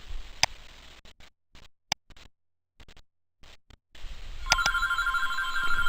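A telephone starts ringing near the end with a steady, rising electronic trill. Faint clicks and ticks are scattered through the quieter stretch before it.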